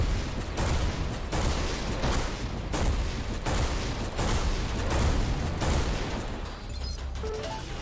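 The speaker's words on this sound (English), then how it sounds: "So we're gonna cycle back to our flak cannon" A flak cannon in the space combat game Everspace 2 fires a rapid, loud string of booming blasts that runs nonstop at close range, with no talking over it.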